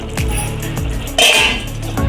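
A lid set down on a cooking pan over a low flame while egg curry cooks, giving a couple of close metallic clinks and knocks with a louder clatter midway, over faint kitchen background.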